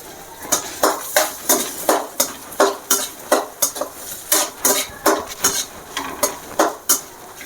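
Sambal ingredients with tamarind sautéing in a pan: a steady rhythm of sharp utensil scrapes and clacks against the pan, roughly two per second, over a faint sizzle, no voices.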